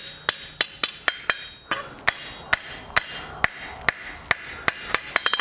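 Hammer blows on hot steel while forging and drawing out a toaster leg on an anvil: a steady run of sharp, ringing metallic strikes at a regular beat, close and clear, with quicker light taps at the end.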